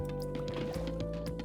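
Water pouring into a tank in a realistic Minecraft modpack, a continuous liquid fill with drips and gurgles over a steady machine hum.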